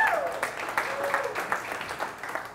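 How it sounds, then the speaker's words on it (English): Audience of about 130 people, mostly real estate agents, applauding at an agent mixer event in Scottsdale; scattered, moderately distant clapping sits under a voice that keeps talking. "Round of applause for you."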